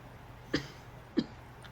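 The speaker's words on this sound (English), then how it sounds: "You watch as she coughs." A woman coughs twice, two short, quiet coughs about half a second apart against a low steady background hum.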